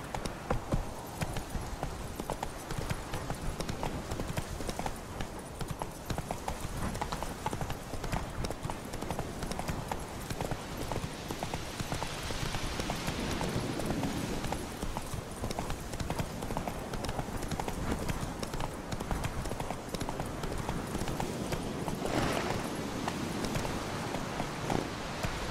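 Horse galloping in The Witcher 3: continuous rapid hoofbeats pound without pause for the whole stretch, loud and close, with game ambience beneath and no talk.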